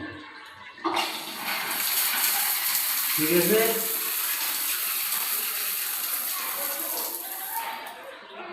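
Water gushes from a bathroom mixer tap line. The steady, loud rushing starts about a second in and runs unbroken to the end, with a brief spoken remark near the start.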